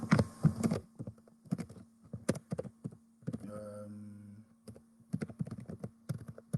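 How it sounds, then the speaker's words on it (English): Close computer keyboard typing in quick bursts of clicks and taps, pausing briefly midway over a low steady hum, with no talking. "Maybe I should actually type it in the comments here."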